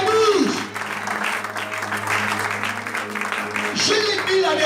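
Church congregation cheering and applauding the Lord during a worship service, a steady wash of clapping and voices filling the room, with people singing and calling out throughout.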